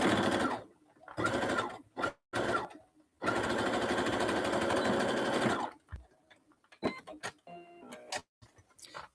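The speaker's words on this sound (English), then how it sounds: "and then just sew." A sewing machine stitches a fabric zipper pencil pouch in several close, rapid bursts of whirring, rhythmic stitching separated by short pauses, ending with scattered clicks and handling sounds.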